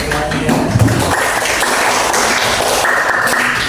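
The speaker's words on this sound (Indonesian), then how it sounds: "Tepuk tangan kepada semuanya." Classroom applause during a teaching simulation on negotiation texts, a dense steady patter of clapping filling the whole stretch after a brief burst of voices at the start.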